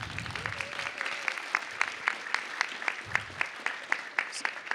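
A crowd at a city council meeting applauds steadily, with a dense patter of clapping and a few sharper individual claps standing out throughout.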